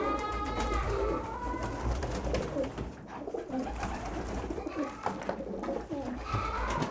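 Pigeons coo steadily and overlap one another at close range on a squab and turkey farm, with soft wing rustles and bird calls mixed in and no talk.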